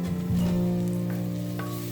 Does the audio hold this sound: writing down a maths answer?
no